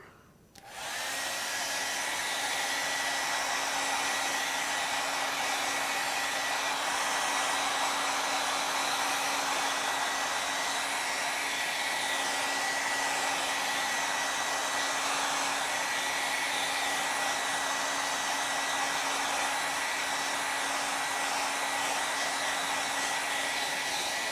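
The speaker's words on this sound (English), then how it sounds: "I'm going to go ahead and hit it with a blow dryer" A hair dryer switches on and blows continuously at a steady, loud whir close by, with no talking.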